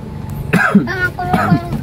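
A person coughs twice in short, rough bursts with brief throat noises between, close by.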